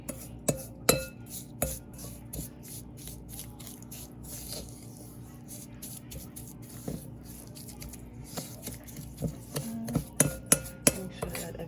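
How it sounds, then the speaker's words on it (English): A spoon clinks and scrapes around a small bowl as homemade lip scrub ingredients with vitamin E are stirred together, giving a run of irregular close taps that quicken toward the end. "Now I'm just gonna mix everything together."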